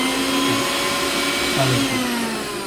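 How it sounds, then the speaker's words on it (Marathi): An electric mixer grinder runs steadily with a loud, continuous whirring motor hum and slight pitch wobbles, and a voice speaks a single short word near the end. "आता आपण हे लावलं, मिक्सर लावला तरी सुद्धा चालतो."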